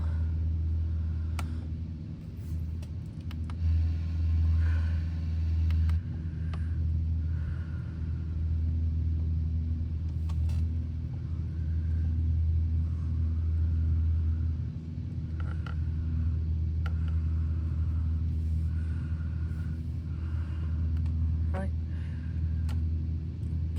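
Cessna 152 engine during a climb around 2,000 feet, a steady droning propeller-engine rumble filling the cabin, with a voice speaking over it.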